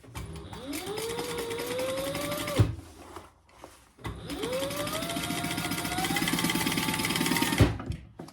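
A Bernina sewing machine stitching in two fast bursts, its motor winding up in pitch and running steadily, with a short pause between the runs.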